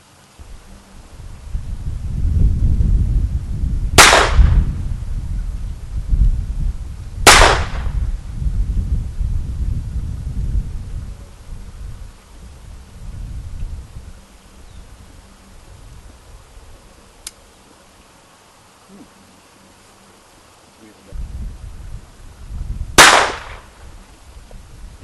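Three sharp, widely spaced gunshots from a Phoenix Arms HP22 .22 pistol ring out outdoors amid rustling and wind-like rumble.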